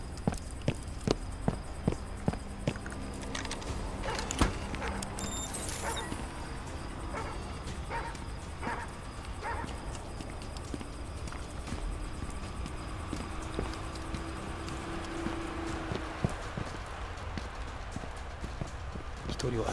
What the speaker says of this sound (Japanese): 一人は足音めっちゃしてるんやけど